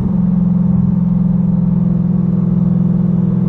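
A C8 Corvette with a Paragon Performance aftermarket exhaust drones loudly and steadily at high revs near redline, a close, sustained engine roar with no talking.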